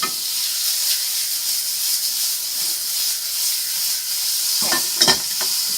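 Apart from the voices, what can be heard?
stirring hollandaise sauce in a hot pan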